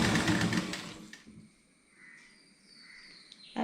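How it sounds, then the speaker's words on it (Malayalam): A sewing machine stitches the folded hem of a churidar sleeve, a close, fast mechanical whirr for about a second before it stops and leaves quiet room noise. "2 സ്ലീവും അതുപോലെ മടക്കി തയ്ക്കുക."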